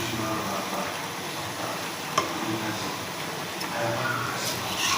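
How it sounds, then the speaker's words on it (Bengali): Vegetables such as potato and Malabar spinach get stirred with spices in a frying pan for a home-style fish curry, giving a soft continuous sizzle with scraping strokes and a sharp tap midway. "এবারে এইভাবে ভালো করে মশলার সাথে সবজিগুলো মিশিয়ে নেবেন।"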